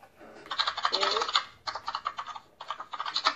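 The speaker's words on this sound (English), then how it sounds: "No, yeah, it's typing actually." Rapid bursts of typing on a computer keyboard during an online voice call, quick clicky keystrokes in three clusters separated by brief pauses, close and fairly quiet.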